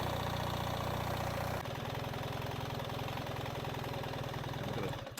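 A 2025 BMW R 1300 GS Adventure motorcycle idles with a steady, close, pulsing boxer-engine drone that shifts to a slightly different throb partway through and cuts off abruptly at the end.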